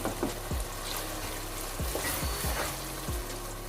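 Turmeric powder and salt being stirred into onions, garlic, ginger and tomato frying in a pan for chicken biryani, with a steady sizzle and repeated scraping strokes of the spoon at close range.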